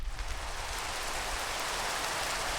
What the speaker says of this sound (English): So now if we sleep through the rain.